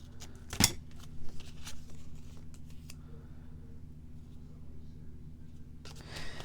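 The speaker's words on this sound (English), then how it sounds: "chose the wrong scissors, but that's okay" Scissors snip paper for a handmade craft card, a few quiet crisp cuts with one sharper snap early on, over a low background hum.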